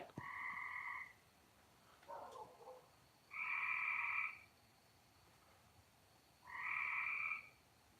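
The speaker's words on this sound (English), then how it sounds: "them frogs, I'm pretty sure they've gotten in the swimming pool or something" Frogs croak in three loud, buzzing bursts, each lasting about a second, with quiet gaps between them. A softer call sounds in between, and the croaking seems to come from a backyard swimming pool at a farm at night.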